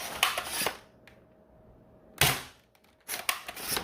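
Three sharp, loud pops from a modded X-Shot Longshot dart blaster fitted with Sabre parts, firing Gen 3 darts, each a short snappy burst separated by about a second of quiet.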